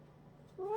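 A pet cat near a box gives one short, faint meow at the end, after a quiet stretch of room tone.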